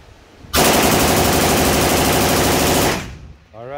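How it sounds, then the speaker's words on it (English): A loud burst of full-auto gunfire at a steel target rattles out as one continuous rapid string of shots lasting about two and a half seconds, then cuts off into quiet with a voice following. "Trying to hit the steel. Go full auto."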